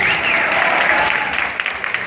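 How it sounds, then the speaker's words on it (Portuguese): An audience at an urban dance show at a school in São José dos Campos claps and cheers in dense, continuous applause, loud and close throughout. "Os aplausos de vocês."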